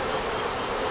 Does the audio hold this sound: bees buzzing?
yes